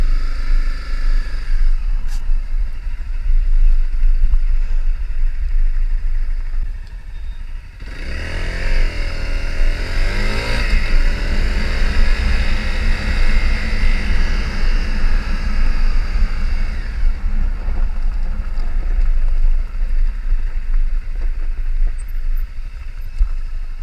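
A kid's small dirt bike engine drones steadily and loudly while riding off road over rocky woodland trail, with a rising rev and throttle surge midway before settling back into a constant buzzing hum.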